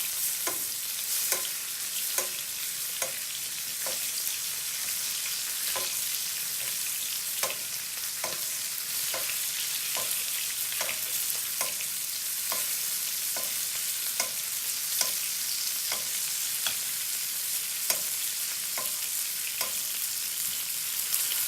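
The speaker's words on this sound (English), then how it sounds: "just going to tilt the edge just ever so slightly and just keep on basting our butter over that steak" Butter is spooned over a steak in a tilted pan, a steady bright sizzle running throughout with regular rhythmic spoon taps and splashes repeating about every second.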